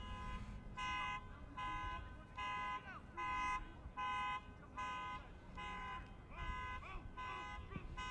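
A car alarm sounds in the background at an outdoor amateur soccer match, repeating steady pulsing tones with a regular on-off rhythm over crowd and commentary murmur.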